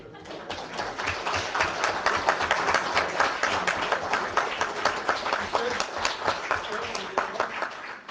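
Applause at a meeting, a room of people clapping steadily and fairly close with a brisk, even rhythm that holds for several seconds.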